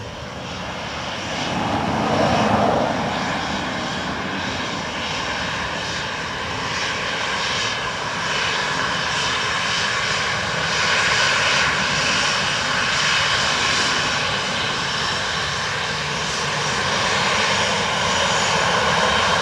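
An airliner lands on runway 28 left at Dublin Airport with a sustained engine roar. It swells slightly early on, then holds at a steady loud level with no voices present.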